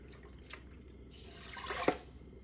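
Water poured into a pot of rice on the stove, a quiet trickle swelling into a short splashing gush near the end, close by and alone.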